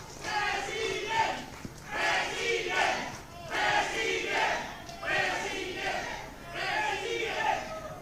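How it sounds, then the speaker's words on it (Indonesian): A crowd at a political rally for a 2024 presidential candidate cheers and claps in loud, surging waves that rise and fall roughly every second or two, with shouting voices throughout. "Boleh berikan tepuk tangan yang meriah buat kita semua."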